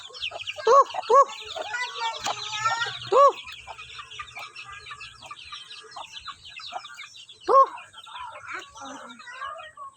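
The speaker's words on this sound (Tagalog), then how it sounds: "Mga pato ang ting alaga oh." Ducks quack and cluck in short bursts, fairly close, over a constant background of chirping birds, with a few other calls mixed in.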